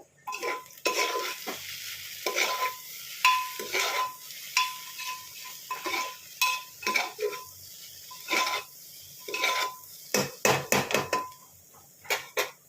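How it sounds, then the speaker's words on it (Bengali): Dalia (broken wheat) mixture being stirred and mixed in a pan, repeated rhythmic scraping strokes of a spoon against the pan with a faint sizzle underneath, close and clear, quickening toward the end. "এটা ভালো করে এবার মিশিয়ে নেব।"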